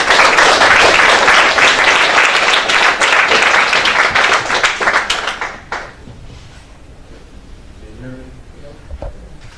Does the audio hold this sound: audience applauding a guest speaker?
yes